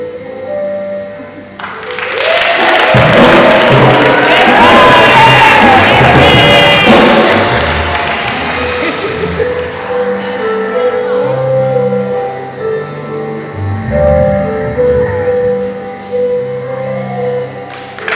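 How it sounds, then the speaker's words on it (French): Wedding guests at a church nuptial blessing burst into loud, sustained applause during the ring exchange, with scattered cheers and a few whoops, the clapping fading slightly toward the end. "nous allons, quand il va introduire l'alliance, nous allons applaudir."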